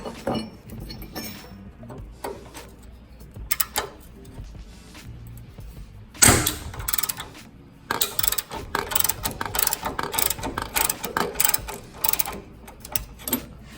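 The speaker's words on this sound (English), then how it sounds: "Use the big ratchet again, break it free." Large ratchet wrenching a trailing arm bushing bolt loose on a Mitsubishi Montero, quiet clicking at first, then a loud crack as the bolt breaks free, followed by rapid continuous ratcheting clicks close up.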